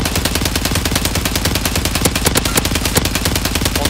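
Loud, relentless automatic gunfire from Call of Duty: Modern Warfare 3 in Resurgence mode: rapid overlapping bursts crackle nonstop with sharp individual cracks poking through.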